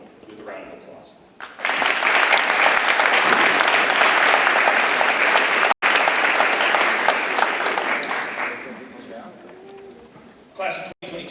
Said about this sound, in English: can we please take a moment to acknowledge these people with a round of applause?